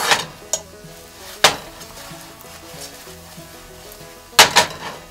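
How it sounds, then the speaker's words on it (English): Sausages wrapped in tortillas frying in a pan over medium-high heat, a soft steady sizzle with several sharp clacks of a utensil against the pan, loudest near the end. "we're just gonna let them cook until they're brown on both sides"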